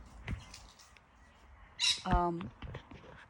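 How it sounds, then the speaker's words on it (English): Birds fighting in a garden give out harsh squawks, with a loud, sharp, ragged call standing out midway above quieter outdoor background sound. "birds up there having a fight"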